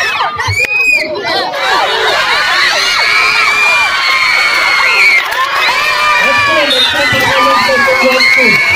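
A crowd of schoolchildren roars with cheers, whoops and high-pitched shouts at an inter-school match, loud and continuous throughout, with chatter mixed into the din.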